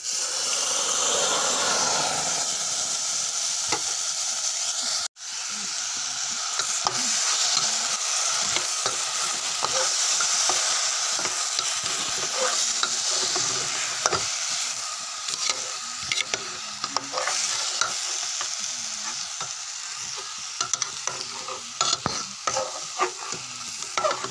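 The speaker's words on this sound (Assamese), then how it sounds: "এয়া চাওক, মই ভালকৈ লৰাই দিলোঁ চাউলখিনি অলপ।" Washed rice with a spoonful of turmeric being stirred as it fries in a pan, a steady close sizzle and hiss with repeated scraping strokes of the spoon, briefly cut off once, without talk.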